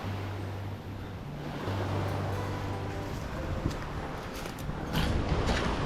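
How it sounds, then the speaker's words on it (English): Big ocean waves breaking along the shore at a mangrove nature reserve in Puerto Rico, a continuous broad roar of surf swelling and washing, moderately loud and steady with no talking. "Those are some big waves."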